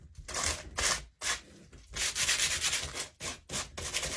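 Sandpaper rubbed back and forth over a painted Dollar Tree chandelier piece makes close, raspy scrubbing strokes in uneven bursts with brief pauses between them, and no one speaks.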